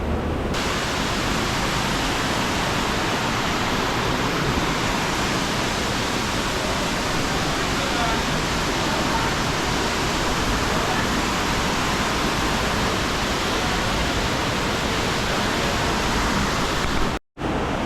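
A waterfall in Pai, Thailand roars as a steady, dense, broadband rush of falling water for the whole stretch, loud and continuous, with no clear voices above it.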